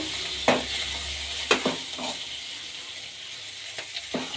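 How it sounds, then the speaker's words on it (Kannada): Garlic, green chilli and curry leaves fry in hot oil in a pan, a steady close sizzle with four or five sharp stirring knocks and scrapes, no voices. "ಈಗ ಬೆಳ್ಳುಳ್ಳಿ ಸೇರಿಸ್ಕೊಳ್ಳೋಣ ಹಸಿಮೆಣ್ಸಿನ್ಕಾಯಿ ಕರಿಬೇವಿನ ಸೊಪ್ಪು ಚೆನ್ನಾಗಿ ಫ್ರೈ ಆಗಲಿ"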